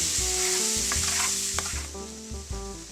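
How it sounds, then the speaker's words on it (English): Lemon juice hits hot chicken drippings in a pan, setting off a loud, dense sizzle. Utensil clinks and scrapes come through repeatedly underneath. "we're going to add some lemon juice to help degrease the drippings"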